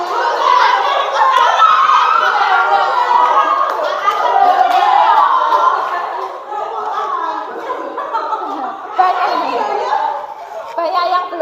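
A classroom of students plays a clapping rhythm game, scattered hand claps and chatter with chuckles mixed in, voices dominating over the uneven, overlapping claps at close range.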